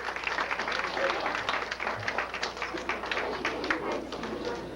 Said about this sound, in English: Bring him on up with a big round of applause.